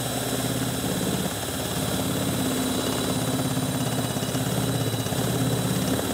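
A permanent magnet generator spinning at about 1,100 RPM gives off a steady, continuous mechanical hum and whine with a low rotating drone, holding even and fairly loud throughout with no talking.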